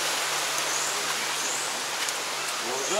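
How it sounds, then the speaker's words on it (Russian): A river rushes steadily at La Vanille park in Mauritius, an even, hissing wash of moving water that stays constant throughout without pause. "Река."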